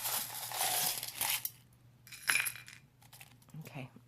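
Small metal charms shuffled and clinking together in the hands for a pick-a-card reading, a loud jangling burst followed by quieter rattles and clicks, close by.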